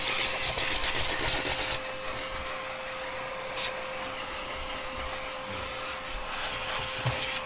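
A vacuum cleaner cleans out the interior of a 1969 Dodge Super Bee, giving a steady, close whooshing drone with a constant whine that runs for the whole stretch, slightly louder at first, with no talking.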